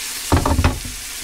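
Boiling water poured into a pan of frying onions for gravy, a short bubbling burst of sizzle lasting about half a second before settling back to a quiet background.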